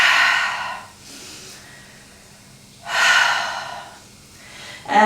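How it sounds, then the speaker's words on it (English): Deep breathing during yoga, two long audible breaths about two seconds apart, close and airy with a third beginning at the end, no talking. "Couple of big deep breaths in."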